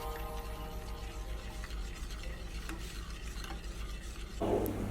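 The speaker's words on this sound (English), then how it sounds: "Add the juice for the gravy and keep stirring until boiling" Gravy from roast lamb juices is stirred in a hot pan until boiling, giving a steady low sizzle and bubbling with scraping strokes and occasional clinks of the utensil against the pan, close and continuous.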